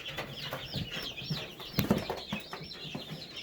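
Young meat chickens and small bantams newly arrived, clucking and peeping in a busy overlapping chorus, with a louder squawk partway through and a brief flutter of wings, close by.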